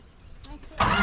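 A 1968 Plymouth Road Runner, parked for 38 years, has its engine cranked and caught; faint clicks and a short stretch of starter effort lead into a loud, sudden roar near the end, with voices nearby.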